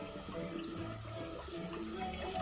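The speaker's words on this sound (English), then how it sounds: "Okay, I'm putting in water." Tap water pours into a pot in a kitchen, a soft, steady stream splashing and gurgling at close range for a couple of seconds, quiet and alone.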